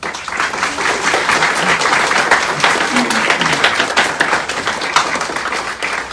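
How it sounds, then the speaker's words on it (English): Audience applause at the unveiling of the medal design for the 2023 North American Indigenous Games, a dense, steady wash of clapping that holds at full strength for about six seconds. "Ladies and gentlemen, how about a big round of applause for Taylor and Ella."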